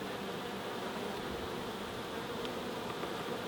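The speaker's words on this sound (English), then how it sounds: "There's a bee there, look, just caught a little bit." Honeybees buzzing around an open hive during a beekeeping check of queen cells and honey, a constant close hum filling the whole stretch without voices.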